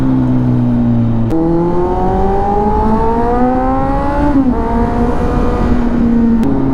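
A KTM Adventure 790 motorcycle engine revs up and down in a long, steady drone with rising pitch sweeps and a sharp blip near the start, loud and close, with no talk over it.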